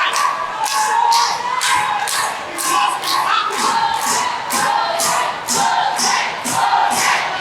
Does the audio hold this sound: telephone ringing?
no